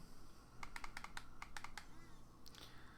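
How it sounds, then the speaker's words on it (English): Fire button on a Vaporesso Luxe 2 vape kit with a plastic feel being pressed in a quick burst of small clicks, two runs of sharp taps close to the mic against a quiet room. "So the menu, 5 clicks on."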